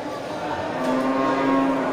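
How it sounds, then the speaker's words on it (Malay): An Aceh water buffalo cow lows at a livestock market: one long, sustained, droning moo, close and fairly loud, over a constant crowd murmur. "Indukan kerbau kling"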